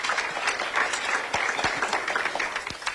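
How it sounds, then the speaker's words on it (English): A warm round of applause from an audience at a Northern Michigan community event on data centers, thanking Jay's Sporting Goods as host; steady, even clapping from a seated crowd, moderately close, with no voices over it. "let's all give a warm round of applause for Jay's Sporting Goods"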